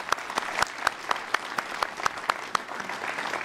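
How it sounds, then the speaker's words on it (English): Graduation audience applauding in a hall, scattered distinct claps standing out over a steady wash of clapping, moderately loud and sustained with no talk. "Let's give them all an applause."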